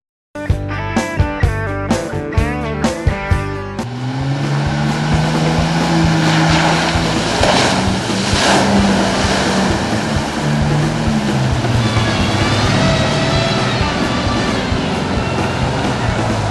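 Four-wheel drive vehicles plough through a muddy bog hole, engines revving loudly after a few short bursts, with water churning and splashing in a long, sustained roar.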